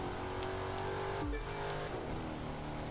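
The Gravedigger monster truck, a Jeep Grand Cherokee body, revs loudly in The Crew 2 racing game, a continuous close engine roar with a brief dip and pitch shift midway, no talk.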